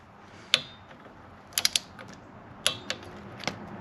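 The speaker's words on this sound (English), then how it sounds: "Now I'm going to torque these down to 15 foot-pounds." Several sharp clicks and ratcheting bursts from a torque wrench tightening the fork clamp bolts on a Kawasaki Ninja motorcycle, spaced irregularly in a quiet room.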